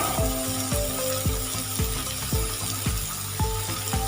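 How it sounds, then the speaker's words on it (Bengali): Small brinjal pieces, soaked in salt water and squeezed, fry in a pan with a continuous sizzle and regular rhythmic knocks about every half second. "বেগুনগুলোকে ছোট ছোট টুকরো করে কেটে নিয়েছি, আমি ছেড়ে দিলাম।"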